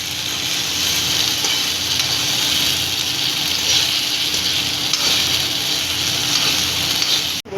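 Maggi noodles being stirred and mixed in a hot pan with chopped vegetables: a loud, continuous sizzle with scraping, ending in a brief clatter.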